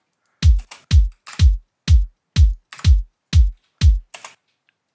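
Eight punchy kick drum hits from an FL Studio sample, evenly spaced in a steady beat, each a loud low thump with a sharp click at the attack and quick decay, heard alone with silence between.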